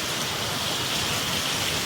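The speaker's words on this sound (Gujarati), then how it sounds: "જો મિત્રો કેવો વરસાદ પડી રહ્યો છે" Heavy rain with wind pours down steadily in Mahuva, Bhavnagar district, a dense, loud, continuous hiss of downpour with no voices.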